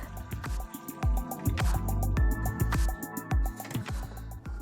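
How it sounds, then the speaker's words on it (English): Fresh water is poured into the reservoir of a Keurig K-Mini coffee maker, a close, steady stream of splashing and dripping gurgles filling the tank for several seconds with no one talking. "Add fresh water up to the 10-ounce mark again."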